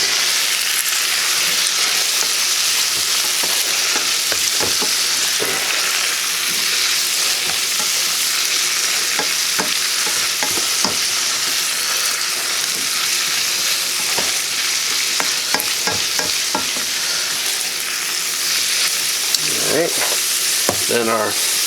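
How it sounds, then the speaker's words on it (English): Green beans sizzle and fry in garlic butter that is starting to brown in a pan, with a steady loud crackle throughout and repeated scraping clatters as they are stirred. "we'll put in our green beans and get them stirred in"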